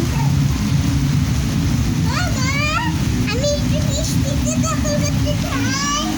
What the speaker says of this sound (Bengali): আমাদের এইখানে প্রচুর বৃষ্টি।